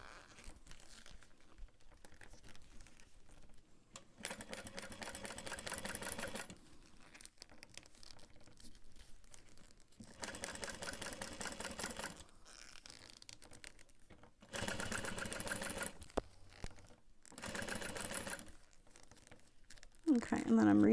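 A sewing machine top stitches a backpack in several bursts of fast, even stitching separated by pauses, heard close up.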